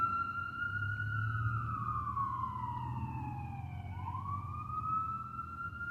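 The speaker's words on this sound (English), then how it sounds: "I can't even hear myself think because of that damn siren." An emergency vehicle siren wails outside, a loud continuous tone sweeping slowly down and then back up in pitch over a low traffic rumble, with no voices.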